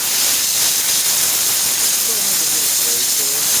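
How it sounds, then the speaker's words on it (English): A regular house cleaner sprays onto a fabric furniture seat in a loud, close, continuous hiss that fills the whole stretch, with faint talk appearing near the end. "So I'm going to spray it."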